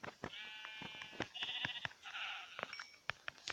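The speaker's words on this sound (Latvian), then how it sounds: "Gluži tā kā aita." Sheep in Minecraft bleat several times in quick succession, wavering nasal cries over scattered clicks and taps, close and fairly loud with no talk.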